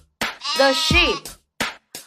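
One long, quavering sheep bleat close by, then two short dull taps after a pause.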